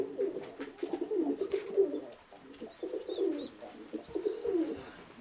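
Pigeons in a breeding loft coo in repeated rolling phrases, close and clear, with soft rustling and a few faint higher calls in the background.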